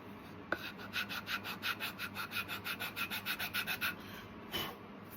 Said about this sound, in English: Give that a little sand.